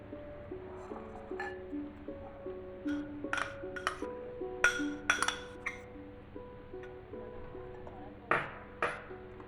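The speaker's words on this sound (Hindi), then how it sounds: "अब इन सब चीज़ों को मैं इस बाउल में मिक्स कर लूँगी।" Dry milk, chopped almonds and essence drops are stirred together in a glass bowl for an egg halwa, giving soft scraping with bright clinks and pings against the glass, up close and fairly quiet.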